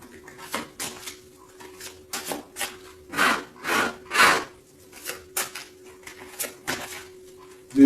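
Tarot cards are shuffled by hand, giving a run of soft, close riffling and rubbing bursts in an uneven rhythm, with a faint steady hum underneath and no talk.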